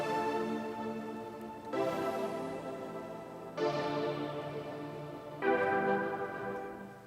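Three sustained synth chords from an electronic track, each entering with a bright attack about every two seconds and slowly fading, rich in layered harmonics, loud and alone with no voices.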